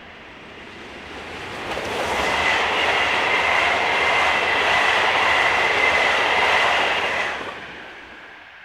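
Ouigo passenger train hauled by electric locomotive 22347 on the Paris to Nantes service, swelling from a steady rumble into a loud close pass of rushing wheels and wagons, then easing away.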